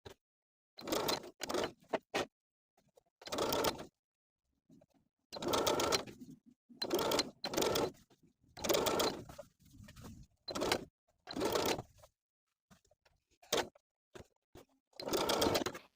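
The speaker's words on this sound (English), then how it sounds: "we're going to top stitch in place, catching that inner folded edge of the bias tape as we go all the way around the armhole" A sewing machine topstitches bias tape around a garment armhole in short bursts with pauses between runs, close and fairly quiet.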